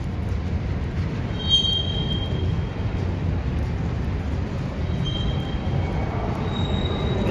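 A close, steady rumble of railroad cars passing along the track, with intermittent high-pitched wheel squeals over constant low-end roar and no talking.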